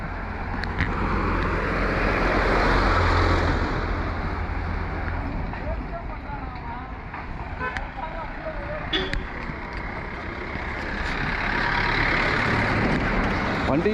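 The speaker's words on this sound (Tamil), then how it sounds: "வண்டிங்க போயிட்டு வந்துட்டு இருக்குப்பா." Vehicles, including what sounds like a heavy truck, passing on a narrow road near a tea estate, engine rumble swelling and fading, with occasional brake hiss and people talking over it.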